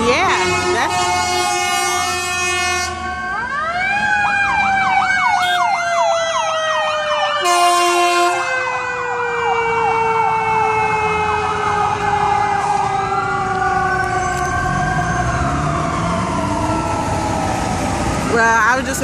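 An ambulance siren wails and yelps loudly in Beverly Hills, sweeping up and down as it passes close by, with traffic rumble and a short honk underneath.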